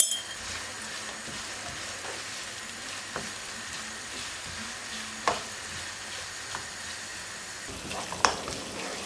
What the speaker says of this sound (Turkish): burada soğanlarımın kavrulmasını sağlayacağım